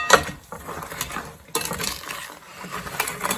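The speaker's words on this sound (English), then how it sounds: "just stir" Spoon stirring pecans in a dry spice mixture in a bowl: irregular scraping clinks and rattling taps of nuts against the dish, close and moderately loud, with no talking.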